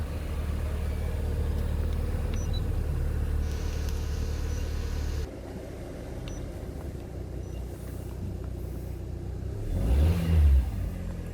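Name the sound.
car engine running, checked before switching off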